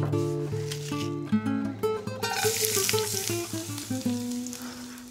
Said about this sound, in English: slice half an onion to saute until it's brown